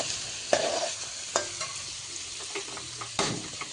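Fish with onion, green chili, turmeric and cumin powder is stirred in a hot pan, giving a soft steady sizzle with a few distinct spatula knocks and scrapes up close.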